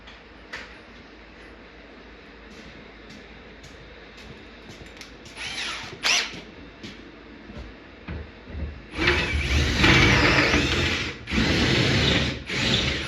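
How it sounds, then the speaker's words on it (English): A power drill whirs in short bursts, then grinds hard into a metal arcade machine lock for several seconds, stopping and restarting with a harsh, loud whine. "I don't think the drill bit was long enough to do it"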